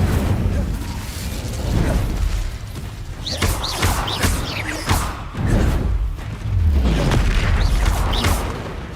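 Incendio fire spells cast repeatedly in Hogwarts Legacy burst out as a series of whooshing, booming blasts with crackling flame bursts, several distinct hits spread across the stretch amid other game combat sounds.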